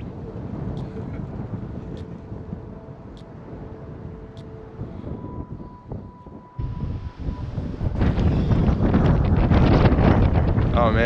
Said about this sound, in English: It's a bit of wind